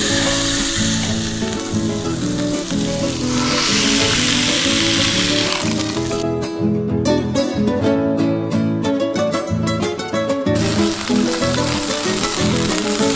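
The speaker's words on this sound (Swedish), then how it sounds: "Får inte steka för länge för då blir det fan torrt." Burger patty frying and sizzling on a griddle, a loud dense continuous crackle and hiss with bursts of sharper popping and spatter midway, close up and alone without talk.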